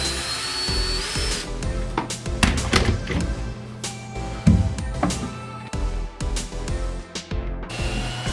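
A power drill drives screws into the plywood of a large DIY aquarium stand, with repeated short whirring bursts, bangs and rattles of wood and tools close by, no talking.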